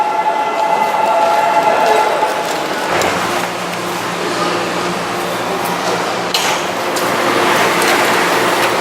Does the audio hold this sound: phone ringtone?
no